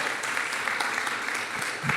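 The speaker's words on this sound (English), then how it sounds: "Let's give her a hand clap." Steady audience clapping for District Attorney Pamela Price at an Oakland MLK community event, a dense, even wash of many hands with no break.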